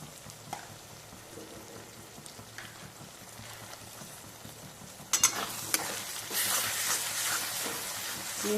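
Garlic paste and green chili paste sauté in a pan with a soft, steady crackle and light stirring scrapes. After a few seconds a louder, brighter sizzle rises and stays on with no voices.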